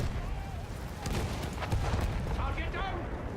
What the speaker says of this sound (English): you blew the hell out of a bunker